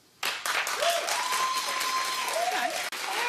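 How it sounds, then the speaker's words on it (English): A television talk show studio audience breaks into loud, sustained applause and cheering, with one voice heard over the clapping. "Clap if you see Beyonce as a fashion icon."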